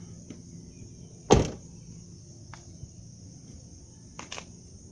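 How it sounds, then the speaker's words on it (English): The door of a 2002 Chevy Trailblazer slams once with a sharp thud, followed by faint knocks and rattles over a steady high insect-like hiss. "I can't even close the damn door."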